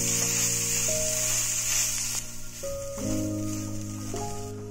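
Rice tossed into a hot pan with spices, salt and turmeric in a home kitchen, giving a steady hiss and sizzle under faint background music.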